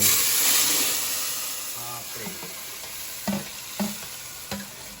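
Onion, tomato, urad dal, curry leaves and chilli stir-fry in a pan, a strong sizzle that fades gradually, punctuated by three or four distinct scraping stir strokes near the end, close and unaccompanied by talk.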